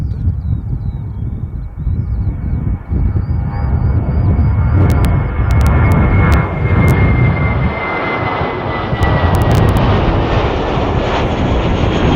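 An Air New Zealand airliner, flight NZ 546 bound for Auckland, departs with a loud, close, sustained engine roar that holds strong throughout, joined by a rising whine as it climbs away.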